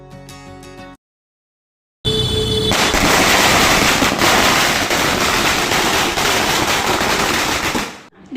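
A long string of Diwali firecrackers rattling off in rapid continuous crackle, loud and close, after a short burst and a silent gap, set off during rain.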